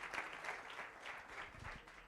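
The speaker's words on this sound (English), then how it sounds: "One more time, ladies and gentlemen, a round of applause for our finalists." Faint, distant applause from a business technology workshop and expo crowd for the finalists, a scattered but continuous patter of clapping at low volume.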